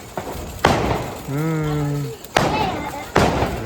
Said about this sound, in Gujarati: જો મમ્મીએ ફટાકડી હલકાવી છે